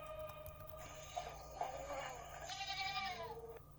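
A goat bleats at night in Indonesia, a drawn-out wavering cry that rises and trembles over several seconds, fairly close and clear against a low steady hum.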